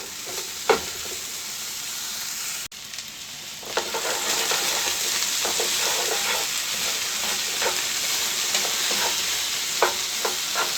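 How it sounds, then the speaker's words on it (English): Chopped potatoes frying in a pan for a vegan chicken tikka meal, a steady loud sizzle broken by occasional scraping stirs and clinks, with no talking. "I'm going to give that a good 5 minutes to cook the potatoes a bit"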